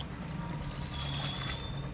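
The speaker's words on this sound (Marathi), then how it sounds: "यामध्ये मी असं पाणी ठेवलंय ओतून" Water pours into a bowl of cauliflower florets in a home kitchen, a steady close-up splashing trickle that lasts the whole moment.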